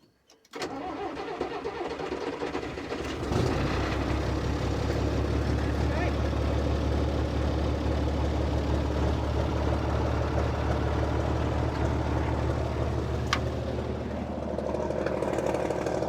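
A 1924 Mercedes-Benz truck engine cranks for a few seconds, then catches and settles into a loud, steady running rumble close by.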